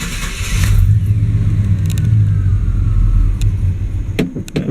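A Chevrolet TBI 305/350 V8 idling roughly before stalling out in neutral, a steady low engine rumble that sags and fades near the end, with a few faint clicks and rattles close by.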